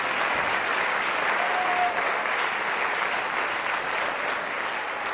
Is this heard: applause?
yes